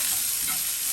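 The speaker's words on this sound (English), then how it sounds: "green chilli and the curry leaves. Give it a mix." Green chilli and curry leaves crackle in a hot pan for a moment, a dense close sizzling hiss with a faint stir, brief and without voices.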